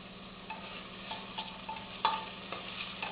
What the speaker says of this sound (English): So my onions are frying.